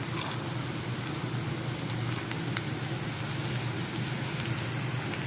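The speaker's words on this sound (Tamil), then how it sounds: "இப்போ ஊற வச்ச கடலப்பருப்பை நம்ம இதில் சேர்த்துக்கலாம்" Soaked chana dal frying in a pan, with a steady, close sizzle and crackle holding evenly throughout, with no talk.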